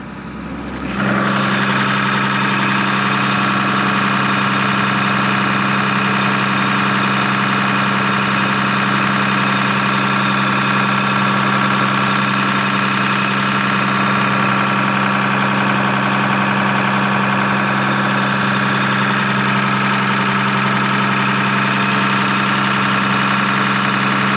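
A boat engine starts up and drones loudly and steadily at close range with its engine compartment opened, a constant heavy rumble with a strong hum running throughout.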